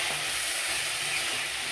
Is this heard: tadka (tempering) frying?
yes